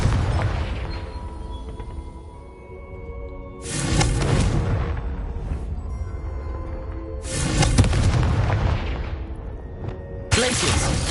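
Repeated blasts from the Confringo explosion spell in Hogwarts Legacy come as three loud booming bursts spread across several seconds, each with a rumbling tail, set against a constant game soundscape.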